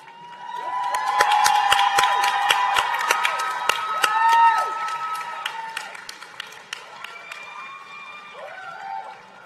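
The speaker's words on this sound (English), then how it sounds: "graduates, please stand, applaud, make some noise to recognize those who stood by you during your journey" Nursing graduates at a university convocation ceremony burst into applause and cheering, a crowd clapping densely with shouts and whoops that peak and then thin out into scattered claps.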